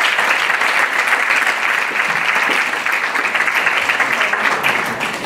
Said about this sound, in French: On applaudit nos CRM.